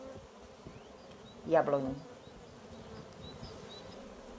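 Honey bees buzz among spring blossoms of plum, cherry, pear and apple trees, a soft steady hum filling the background while a person briefly says one word.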